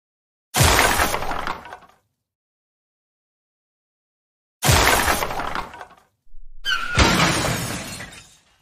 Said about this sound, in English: I am going to crash the traffic lights.